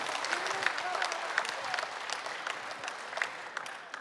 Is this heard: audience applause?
yes